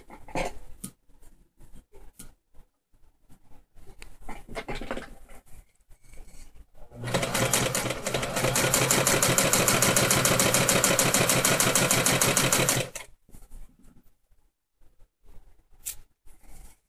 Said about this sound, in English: We're just gonna keep on sewing.